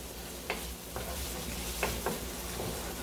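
Aromatics frying in a pan give a soft, steady sizzle, broken a few times by brief scrapes and taps of stirring, quiet and close.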